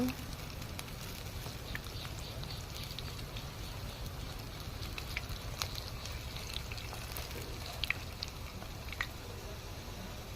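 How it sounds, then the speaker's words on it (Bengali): Corn fritters sizzle steadily in hot oil, a dense, even crackle and hiss with occasional small pops and faint clicks as the fritters are turned. "এখন আস্তে আস্তে এপিট ওপিট করে ভেজে নিতে হবে।"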